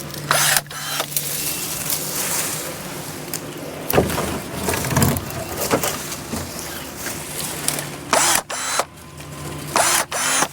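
Battery-powered pruners cut branches near poison oak in a series of short, motorized snips and whirs separated by pauses, with rustling and a few sharp clicks between cuts.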